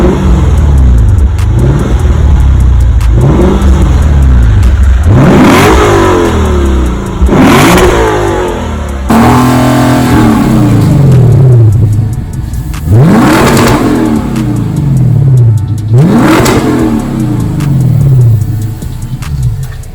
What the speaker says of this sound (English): I did a muffler delete and it made it so much better